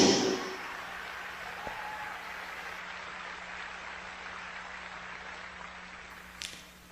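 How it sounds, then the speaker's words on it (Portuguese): A church congregation applauds in a broad, steady wash of clapping that fades gradually over several seconds, heard from a moderate distance in a reverberant space. "Eu não sei porque vocês estão aplaudindo"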